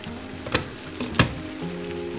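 Mola fish curry sizzles in a pan as it cooks, with a steady low frying hiss and two sharp scraping stirs, nobody talking.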